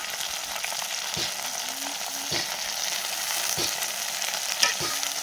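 Spices with ginger and garlic paste sauté in a pan with a steady crackling sizzle, broken by a few sharper scraping stirs, close and fairly loud with no talking.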